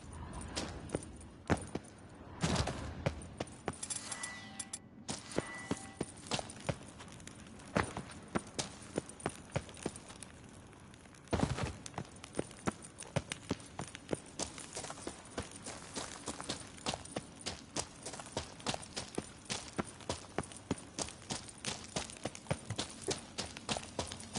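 Rhythmic clip-clop of horse hooves trotting in the video game The Witcher 3, crisp and close, continuing for a long stretch with a brief pause partway.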